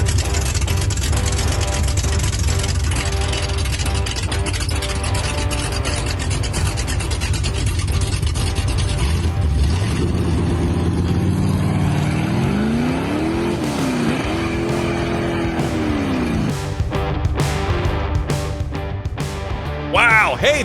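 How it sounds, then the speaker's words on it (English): Cars roar loudly, engines revving and droning continuously, with rising and falling pitch as gears change and a burst of sharper mechanical noise near the end, voices faintly mixed in. "those car sounds were from Jack"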